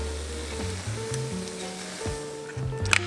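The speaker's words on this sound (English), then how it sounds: "Add in some olive oil to our pan. And scramble an egg." Egg scrambling in olive oil in a pan, a steady close sizzle with scraping stir clatter and a sharp utensil knock near the end.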